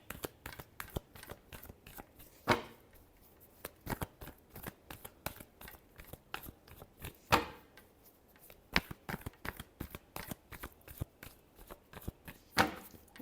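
Tarot cards shuffled by hand in a steady series of crisp riffling flicks and taps, with a few louder snaps and bursts standing out; close and fairly quiet, no talking.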